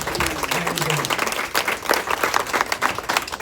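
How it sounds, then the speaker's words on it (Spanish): Applause from a church congregation during a Sunday morning service: steady, dense clapping from many hands fills the whole stretch, with a few faint voices mixed in. "Denle un aplauso a los muchachos"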